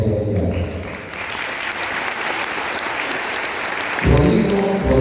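Loud, sustained applause from an assembled crowd honoring members of an indigenous Council of Elders at a community ceremony in Caxhuacan, Puebla, steady for several seconds and swelling near the end.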